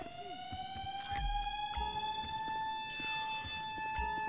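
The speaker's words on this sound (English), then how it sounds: "I know the alarm's gonna go off, but it's alright." A wailing alarm siren sounds throughout during a GTA Online Cayo Perico Heist, a steady rising electronic tone with faint harmonics, fairly quiet and continuous, mixed with light game background noise and no speech.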